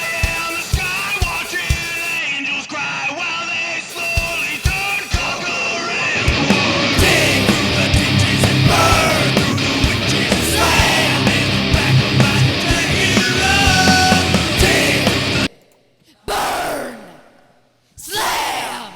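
Harsh, distorted death metal screams ride over a dense recorded heavy song with pounding drums and amp-simulated guitars, then the mix drops out abruptly before brief loud bursts return.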